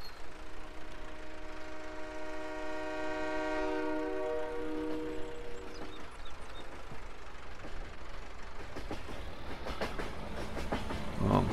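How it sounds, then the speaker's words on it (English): Passing train in the video game Farming Simulator 22: a long, sustained horn blast with steady rumble, giving way to rattling wheel clatter that grows louder and closer toward the end. "here comes the other train"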